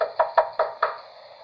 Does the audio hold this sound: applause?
no